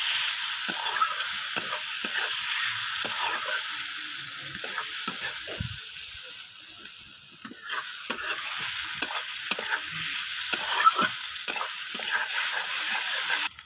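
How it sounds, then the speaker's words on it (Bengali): Fried potatoes being sautéed with spices in a pan for a spicy bhola fish curry, a steady close sizzle and frying hiss under repeated scraping strokes of a stirring spoon, with no speech. "মশলার মধ্যে আলুগুলোকে দিয়ে এইভাবে আমি মশলার সাথে কষিয়ে নেব আলুগুলোকে"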